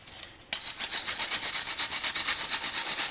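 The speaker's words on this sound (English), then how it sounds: "Get all the brake residue off of it." A brake part from a Mazda 3 front brake service being scrubbed free of brake residue, quiet at first, then a loud, fast back-and-forth rhythmic brushing that continues steadily.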